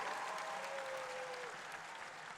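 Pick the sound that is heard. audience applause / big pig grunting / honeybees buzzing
audience applause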